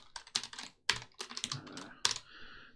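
Keyboard typing at a computer while working through a maths problem: a series of sharp, close key clicks in uneven bursts, a few louder strokes standing out, with no talking.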